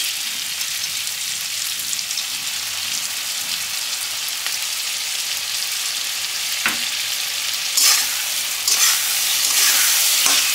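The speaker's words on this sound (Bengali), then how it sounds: "পেঁয়াজ আর ক্যাপসিকামের সঙ্গে এটা ভালো করে ভেজে নেবো" Pieces of katla fish fry with onion and capsicum for restaurant-style chilli fish, a steady dense sizzle close by that swells louder in the last few seconds as stirring continues, no voices.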